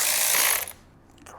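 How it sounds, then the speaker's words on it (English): A ratchet clicks rapidly up close while unbolting power steering pump lines on an Alpina B7, a brief burst of dense clicking that stops, followed by near silence. "Quickly unbolt the power steering pump."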